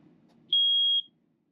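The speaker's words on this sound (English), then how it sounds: "The other thing is our smoke detector," A smoke detector inside an Airstream trailer gives one sharp, loud high-pitched beep lasting about half a second during a test, with quiet background before and after.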